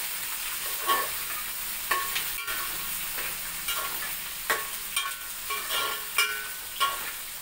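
Onions and green chillies for Andhra biryani masala frying in a pan, a steady hiss of sizzling oil broken by periodic scraping stirs of a spoon against the pan, close and fairly loud, with no talking.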